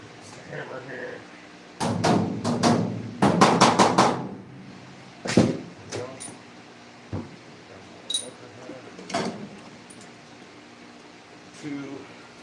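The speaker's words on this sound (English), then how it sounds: "Just a hammer here." A hammer pounds out bent metal on a 7.5 gauge railroad car, loud close clangs in quick clustered bursts early on, then spaced single strikes with pauses and background hum.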